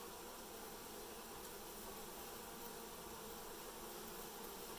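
Honey bees swarming during a hive cutout in Dorrance, Kansas, a dense continuous buzzing drone, steady and close, filling the whole stretch with no talk.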